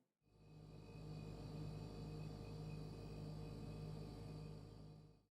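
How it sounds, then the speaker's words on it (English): An average household refrigerator gives a faint, steady low hum with a soft electrical drone, unbroken and alone for several seconds. "Many of you may recognize this sound as that of an average refrigerator."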